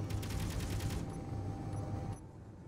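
Rapid turret gunfire in the Space Engineers video game, a dense burst of repeated shots for about two seconds that stops abruptly, leaving a quieter mechanical hum.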